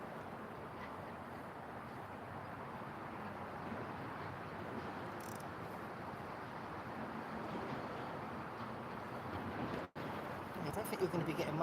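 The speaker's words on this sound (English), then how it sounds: "Just as I said that, a gust of wind came through." Wind gusting across an open coastal fishing spot by the sea, a steady broadband rush that holds loud for most of the stretch, swelling slightly toward the end with a brief dropout near the close.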